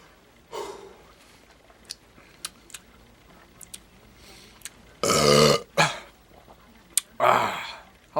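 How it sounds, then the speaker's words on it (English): A long, loud belch after chugging a can of Busch Ice beer, rumbling for about half a second amid faint clicks and shuffles, followed by a few shorter exhales and a second gassy burst. "How long has it been since I belched like that in a video?"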